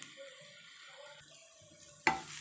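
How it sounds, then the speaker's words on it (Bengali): Ground cumin and coriander fry in a pan for vegetable chop filling, a soft steady sizzle under quiet stirring that ends with a louder burst of hiss and a clatter. "মশলাটাকে একটু ভেজে নেব।"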